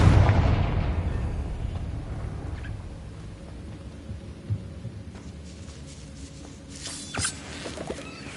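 A Confringo fire-blast spell in Hogwarts Legacy explodes with a loud opening boom that fades into a long rumbling decay, followed by a few faint small clicks and thuds.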